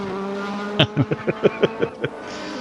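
A DTM race car with a 4-litre naturally aspirated V8 runs at Suzuka in the RaceRoom racing game, first a steady engine drone, then a quick series of sharp, loud rhythmic bursts.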